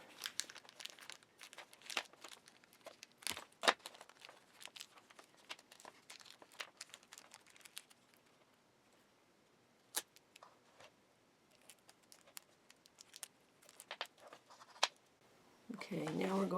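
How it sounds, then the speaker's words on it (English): Plastic wrap on an LED hoop is trimmed and taped by hand, making close, irregular crinkles, snips and tape tears that come in bursts with quieter gaps between them. A person speaks at points. "now let's trim this plastic wrap back a little bit and then tape"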